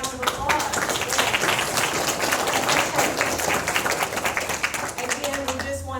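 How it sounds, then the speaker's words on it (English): A crowd applauds at a family memorial event, steady dense clapping filling the whole stretch at a moderate level, with a few voices mixed in near the end. "let's give these people a round of applause"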